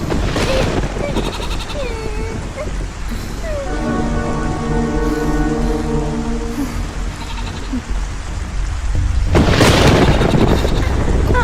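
Rain pours steadily in the background as a broad hiss throughout, swelling louder near the end, while people talk and a voice wails over it.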